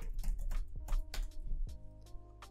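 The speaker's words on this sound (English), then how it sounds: "Now enter in your passphrase again" Keys clatter on a computer keyboard as a passphrase is typed for PGP encryption software, a quick run of close, crisp clicks, some sharper than others, with no talking.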